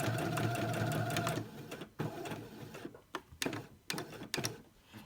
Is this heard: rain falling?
no